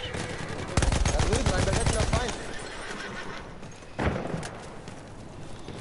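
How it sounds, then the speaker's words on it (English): A horse in the World War I shooter Battlefield 1 lets out a loud, close whinny with heavy hoofbeats, then a second, shorter cry, while gunfire crackles around it. "An enemy horse."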